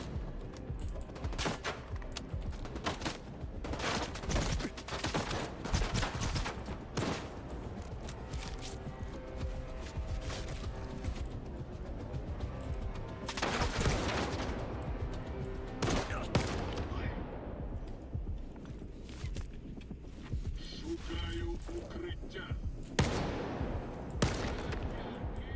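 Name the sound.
gunfire in a video game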